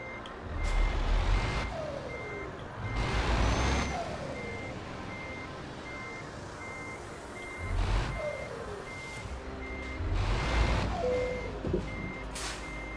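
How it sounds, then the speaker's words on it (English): In a trucking video game, a truck backs up with steady, regular reversing beeps under repeated bursts of engine and air-brake noise, at moderate loudness. "So we're just gonna back up to this trailer."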